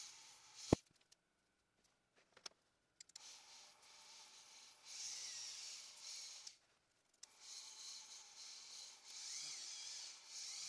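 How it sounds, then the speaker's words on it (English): Sandpaper is worked over a small carbon fiber ring, giving quiet, faint rubbing strokes in several stretches, with a sharp click near the start and soft scrapes between passes. "I just go through it one by one and sand the ring."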